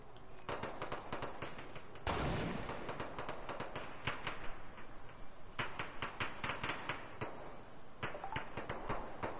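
Gunfire in the Fortnite video game crackles in rapid, dense bursts, with a heavier shot near the start followed by steady rattling volleys at moderate distance that run throughout.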